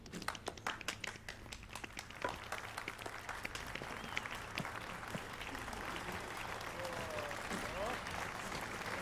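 Applause in The Witcher III: a scattering of separate hand claps at first that thickens into a dense, steady wash of crowd clapping, moderately loud and sustained.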